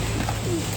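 At a pigeon market, a brief, close pigeon coo sounds over a dense, noisy market background.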